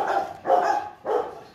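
A tall, long-bodied Rottweiler barks at a kennel, giving three loud, deep woofs in a slow, even rhythm with short pauses between them, close by and without anyone talking.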